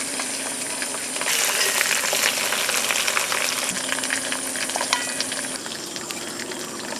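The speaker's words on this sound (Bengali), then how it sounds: "বাকি চিকেনগুলো এভাবে ভেজে নেব" Chicken pieces frying in mustard oil in a pan, a steady, dense sizzle that swells louder after the first second and stays continuous and close.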